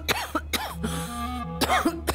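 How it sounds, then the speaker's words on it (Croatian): A cough heard in an indoor scene from a domestic TV drama series: a couple of sharp, close coughs with a throat-clearing sound between them, over a low steady hum, with no talk. "Što kašljaš ti stvarno?"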